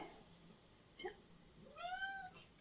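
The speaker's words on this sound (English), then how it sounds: "You are a cat, you're able to jump." A cat meows indoors, giving a short chirp and then one drawn-out rising meow, faint and alone against a quiet room.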